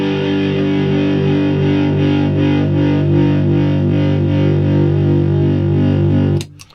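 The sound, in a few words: electric guitar power chord with distortion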